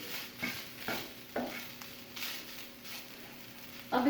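Minced chicken frying in a pan while being stirred, with soft repeated scraping strokes about every half second over a faint sizzle, fairly close.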